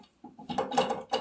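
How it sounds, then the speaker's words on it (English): A wobbly plastic kitchen faucet being moved, giving short close creaks and rattling clicks in an irregular burst lasting about a second. "Goodbye, wobbly plastic kitchen faucet."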